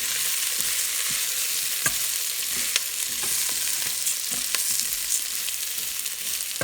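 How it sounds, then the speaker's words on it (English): Prawns and chorizo rice sizzling steadily in a Pressure King Pro on browning mode while being stirred, with a continuous loud hiss broken by light scraping clicks of the utensil. "And I'll give that a good old stir, get coated in the lovely chorizo"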